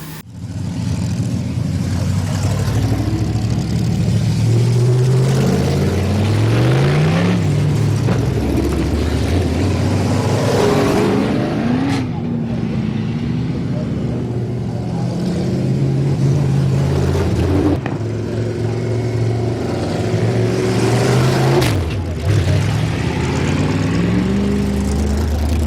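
Race car engines roaring through a heat at a speedway, several cars droning and rising in pitch at once, loud and continuous with passing swells over the whole stretch.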